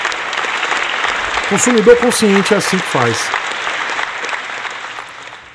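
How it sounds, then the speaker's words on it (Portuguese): An audience bursts into dense applause for a Royal Enfield customer. A voice speaks over the clapping partway through, and the clapping then slowly fades out. "Palmas para o Lucas."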